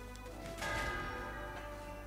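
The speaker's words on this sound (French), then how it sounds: "La cloche." A bell rings in the Medievil video game, a sustained resonant toll that swells about halfway in and rings on over steady in-game ambience.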